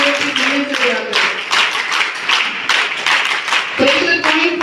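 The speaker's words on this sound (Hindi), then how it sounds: "इन सब के लिए एक बार जोरदार तालियां, और अपने लिए भी तालियां।" A group claps for guests at a one-day yoga camp marking International Yoga Day, loud, close hand claps in a fast, uneven rhythm with a voice heard faintly beneath them.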